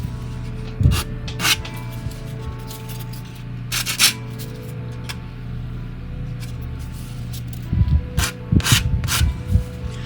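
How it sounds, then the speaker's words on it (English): Sandpaper rubs across plastic parts of a 1979 AMT Star Trek U.S.S. Enterprise model kit. Short, close rasping strokes come in bursts over a steady low background hum. "So you can see that we're gonna need to sand down any of these sections."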